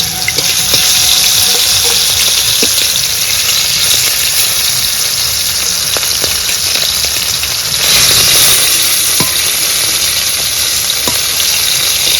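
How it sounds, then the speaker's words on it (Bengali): Fish pieces dropped into hot oil fry with a loud, steady, close-up hiss and crackle, with scattered pops and spits throughout and no voices. "তেল তো গরম হয়ে গেছে এবার তেলে মাছগুলো ছেড়ে দেব"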